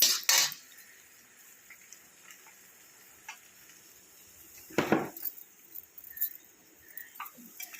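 Mushroom manchurian with soy, chilli and tomato sauces frying in a pan, a faint steady sizzle broken by scattered clinks and one louder scrape of a utensil.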